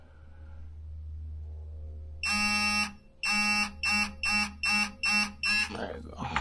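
An electronic torque wrench beeps loudly in a series of harsh buzzing tones, one long then several shorter, speeding up, over a low hum, while torquing a Honda Integra during a timing job.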